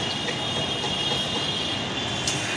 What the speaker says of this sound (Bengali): Dhaka metro train